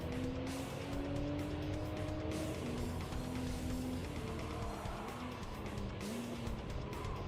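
Small hatchback car in a video game drives hard with a steady engine tone and tyre squeal as it skids, a continuous loud racing noise throughout.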